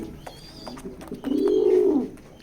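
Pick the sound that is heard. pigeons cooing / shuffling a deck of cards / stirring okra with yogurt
pigeons cooing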